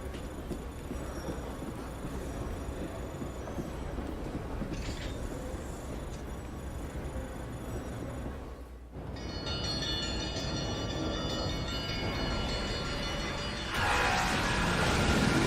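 A monorail in the video game Lost Odyssey moves with a steady rolling rumble that shifts abruptly midway and grows louder near the end, with a high whine layered over the low drone.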